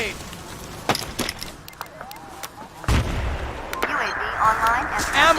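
A frag grenade in Battlefield 2 goes off in one loud, booming blast midway, amid scattered distant gunfire and battlefield noise, with voices calling out nearby.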